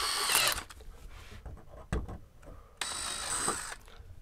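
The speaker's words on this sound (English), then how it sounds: "I'm going to drill through." A power drill bores through a metal bracket on an RV barn door in two bursts, a loud whine at the start and another after a pause, with quieter handling noises in between.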